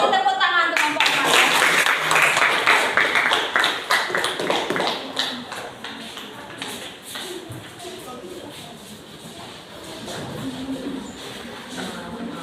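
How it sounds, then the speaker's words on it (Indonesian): Students in a classroom clap for a group, a lively burst of many hands that is loud at first and then thins into scattered claps and taps, with voices talking over it. "Kasih tepuk tangan untuk kelompok"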